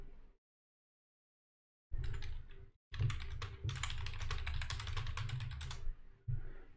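Computer keyboard typing at a PC in quick, closely spaced clicky keystrokes, loud and near. The typing comes in two bursts with silent pauses between them, ending with a final short burst, and nobody speaks.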